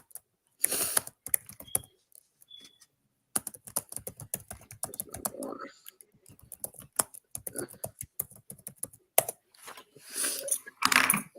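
Rapid, uneven clatter of keys being typed on a computer keyboard, close and fairly loud, coming in bursts with short pauses.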